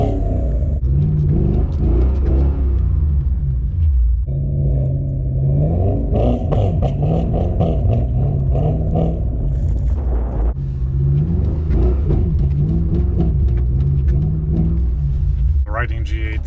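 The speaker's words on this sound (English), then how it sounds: "Riding G8 on a snowy day like this, it's not the best idea" A Pontiac G8 GT drives slowly through snow on an icy parking lot, its engine a steady close rumble with occasional revs and faint clatter running the whole time.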